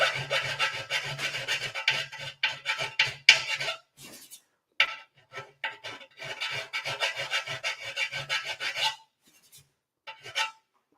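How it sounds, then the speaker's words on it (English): Small three-sided thread file rasping in quick back-and-forth strokes, close and crisp, coming in rhythmic bursts broken by brief pauses and ending with a couple of final strokes. "Little 3-sided thread file."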